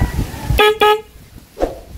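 Two quick, bright car horn beeps in close succession, followed by a fainter short toot amid low background rumble.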